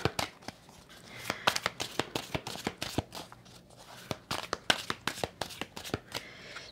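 Tarot cards riffled and shuffled close up, a dense run of crisp flicking snaps and slaps in quick irregular bursts, then cards set down on a surface.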